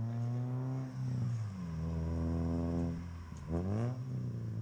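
A car engine drives past, its pitch sweeping down as it goes by. A second engine then rises and falls, moderately loud with no talking.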